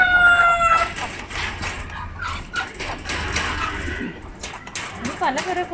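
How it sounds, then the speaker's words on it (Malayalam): On a farm in Ajman, UAE, various chickens crow loudly and close by, with several drawn-out calls at the start followed by scattered clucks, while voices mix in. "പലതരം കോഴികളുണ്ട്."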